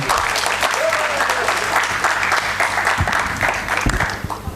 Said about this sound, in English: Let's have a big round of applause to Mr. Deva.